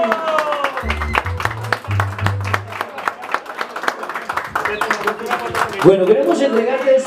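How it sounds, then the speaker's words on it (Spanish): Guests at a birthday party with a mariachi band break into scattered applause and clapping, mixed with crowd murmur and people talking, brisk claps over several seconds. "un aplauso bien bonito para el mariachi"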